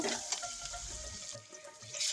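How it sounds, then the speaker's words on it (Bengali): Green chilies and onions fry in oil as a utensil stirs them, producing a moderate sizzle mixed with scraping stirring sounds, close by and without speech. "এখানে দিয়েছি তেল তারপর কাঁচামরিচ পেঁয়াজ এখন এটা ভালোভাবে আমি নেড়ে চেড়ে নিব"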